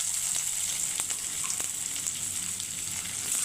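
Chopped onion frying in hot oil with bay leaf and whole garam masala, a steady soft sizzle with faint stirring ticks, no talk.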